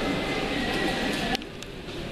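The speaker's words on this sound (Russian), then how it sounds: "Здесь вот поезд подъехал." A train pulls into a stop in Prague, a steady broadband rumble of wheels and carriage noise that drops in level partway through as it slows.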